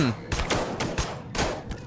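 Gunfire from units shooting at hordes in the zombie strategy game They Are Billions, with a handful of sharp bursts spaced about half a second apart, loud and close, interleaved with brief commentary.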